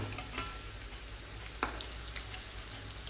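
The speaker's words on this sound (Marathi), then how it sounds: "गरम तेलामध्ये या वड्या अशा व्यवस्थित तळून घ्यायच्या आहेत" Bakarwadi deep frying in hot oil, a faint, steady bubbling hiss with a few sharp ticks and pops scattered through it.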